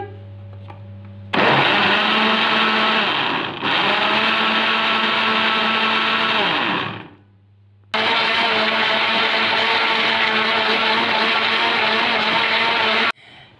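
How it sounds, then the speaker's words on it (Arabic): A blender whirs loudly while mixing a banana and Oreo milkshake with milk, running in two long bursts with a short pause between them. "هنشغل الخلاط ونعمل العصير"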